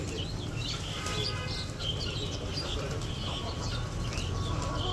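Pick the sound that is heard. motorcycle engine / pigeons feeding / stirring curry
pigeons feeding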